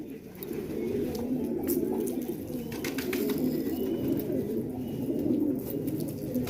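Multani shok pigeons coo in soft, rolling, overlapping calls close by, a continuous low throaty murmur with occasional faint chirps, heard with no talking.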